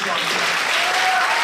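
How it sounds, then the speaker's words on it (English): Dense, loud crowd applause for a high school football team, steady clapping that fills the brief moment with a voice faintly underneath. "you can give them a round of applause."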